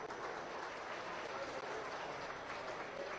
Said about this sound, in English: Let's give our market barrel exhibitors a big round of applause.